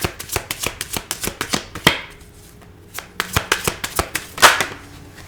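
Tarot cards are shuffled by hand in quick bursts of crisp riffling slaps, close up, with a short lull in the middle before the snappy shuffling resumes.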